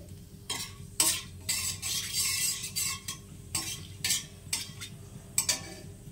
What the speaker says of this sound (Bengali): এবার কালো জিরা ফোড়ন দিয়ে দিচ্ছি